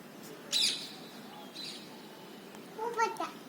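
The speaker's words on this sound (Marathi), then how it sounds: "अरे कसा करतो ग पोपट?" A pet parrot gives a few short, shrill squawks and chirps, spaced apart over quiet background hiss, fairly close but modest in loudness.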